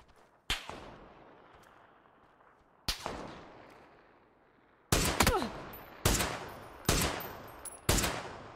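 Origin 12 shotgun blasts in the game PUBG ring out as sharp, loud single reports, first spaced apart, then a faster run of four shots, each with a short decaying tail.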